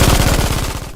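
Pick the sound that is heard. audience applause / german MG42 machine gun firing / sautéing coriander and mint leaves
german MG42 machine gun firing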